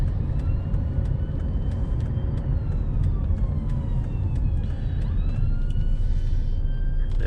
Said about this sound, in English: Oh, we've got an ambulance behind us here, so I'm gonna move it.